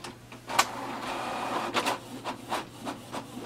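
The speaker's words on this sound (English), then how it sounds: "it will send a command and then it will print. Now the output tray will come automatically out." Canon TS6360 wireless inkjet printer running a copy job, its mechanism whirring and clicking in uneven pulses as the paper feeds through, heard up close with no voices.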